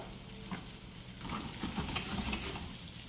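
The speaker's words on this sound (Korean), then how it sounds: "왔다 갔다 하시면서 골고루 뒤져주세요. 기름 넉넉히 두르시면서" Kkanpunggi chicken is stir-fried in plenty of oil, giving a steady dense sizzle with soft scraping and stirring noises all the way through.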